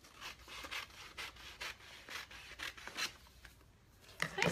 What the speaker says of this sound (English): let's cut on this line again.